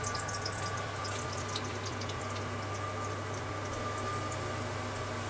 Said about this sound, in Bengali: এই তেলটায় এবার শাকগুলো ফোড়ন দিয়ে ছাড়তে হবে